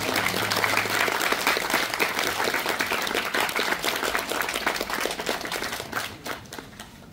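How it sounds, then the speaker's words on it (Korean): Wedding guests applauding at a Korean traditional wedding ceremony at a hanok village, a loud burst of many hands clapping in a dense steady patter that thins and fades near the end. "하객 여러분, 박수 부탁드립니다."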